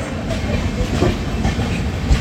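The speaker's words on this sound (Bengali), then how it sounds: "আমাদের সাথে যাচ্ছে ভুবনেশ্বর বেঙ্গালুরু, ক্রস করছে ট্রেনটা।" A Bhubaneswar–Bengaluru train rumbles past close by, a loud, dense roar with steady rhythmic clatter from the wheels throughout.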